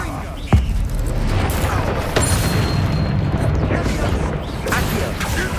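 A Bombarda spell blast from Hogwarts Legacy, a sharp loud boom near the start, then a rumbling blast later, over continuous battle noise with a spoken voice in the mix.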